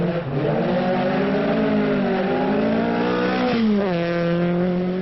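A diecast rallycross car's engine revs loudly and continuously, its buzzing harmonic tone climbing and shifting in pitch as it accelerates, with no voices over it.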